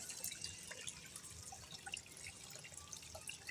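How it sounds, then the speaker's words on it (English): Water trickles from a natural spring emerging beside a large cottonwood near a creek, a faint close-up patter of drips and small splashes that continues steadily with no voices. "Yep, found a spring right there."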